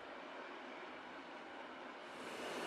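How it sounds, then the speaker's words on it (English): A green train climbs a mountain, giving off a smooth, continuous rushing rumble that holds steady and swells slightly louder near the end, with no voices over it. "The green train gently begins to climb the mountain."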